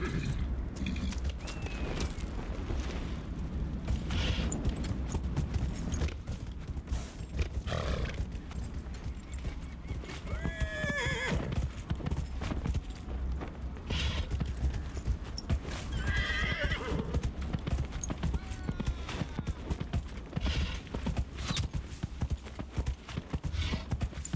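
Horse hooves clip-clop steadily with repeated neighs and whinnies from a mount in the fantasy video game Dragon Age: Inquisition, loud and continuous over a game soundscape, with occasional creaks.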